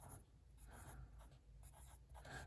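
A pencil scratching on paper, with quick strokes and rubbing in an irregular rhythm, close and quiet with no talking.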